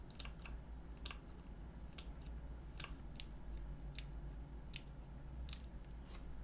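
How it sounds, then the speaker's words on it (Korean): Mechanical keyboard switches on a G80-3000 HAV click one at a time, sharp, close, evenly spaced taps over a low steady hum. "저는 밀크축의 이 클릭 소리가 구청축보다 크지 않은 것 같더라고요"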